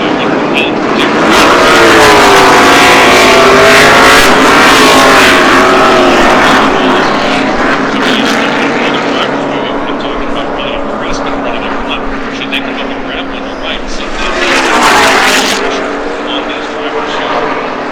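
NASCAR race cars roar past at Talladega in a loud, continuous surge of engine noise with rising and falling pitch as the pack passes, under crowd and voices.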